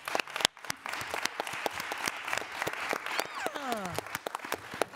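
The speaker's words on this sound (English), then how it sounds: "a round of applause for Ruby" A crowd at a Friday night live creatives event applauds Ruby with dense, close clapping that runs the whole time, a few sharp louder claps standing out and a voice speaking over it near the end.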